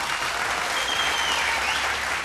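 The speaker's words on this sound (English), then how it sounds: "massive round of applause please for Archie Tazi" Dense, steady audience applause fills a TV talent show studio at the Vocal Fusion top five stage, loud and unbroken for a couple of seconds with no voices over it.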